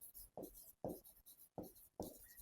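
Chalk or marker strokes on a classroom board during a maths lesson, four close, scratchy bursts in a steady rhythm with brief pauses between them, heard alone without talk.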